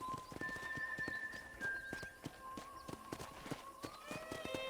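A horse walks with steady clip-clop hooves in the Red Dead Redemption video game, close and rhythmic, with tonal background music running beneath the footfalls.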